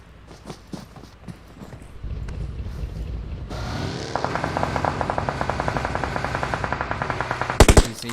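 Gunfire in the BGMI battle royale mobile game during an esports match, scattered single shots followed by a long, fast burst of automatic fire, ending in a few loud close blasts.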